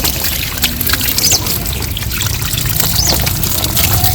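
A mug of water is poured onto a mango tree outdoors, a loud, continuous splashing trickle close by with faint bird chirps in the background and no talking.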